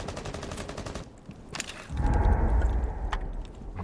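Bursts of light machine gun fire from Amaru's LMG in a tactical shooter video game, rapid rattling volleys that pause briefly, then resume alongside heavier low rumbling impacts and clatter.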